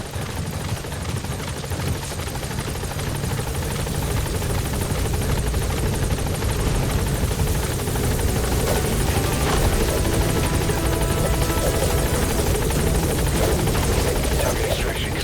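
Support helicopter from the video game Metal Gear Solid V: The Phantom Pain, its steady rotor thrum and engine roar loud and continuous throughout, building slightly, with faint voices beneath.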